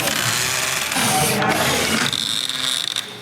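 A power drill whirs steadily in bursts, its pitch shifting as it runs, close and fairly loud, while working on a car.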